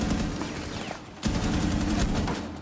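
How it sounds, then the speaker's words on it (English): Rapid gunfire in Rainbow Six Siege, a dense continuous volley of shots that dips briefly before a fresh loud burst resumes and carries on steadily to the end. "Where is he shooting me from?"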